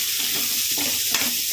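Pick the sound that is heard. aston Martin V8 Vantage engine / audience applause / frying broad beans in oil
frying broad beans in oil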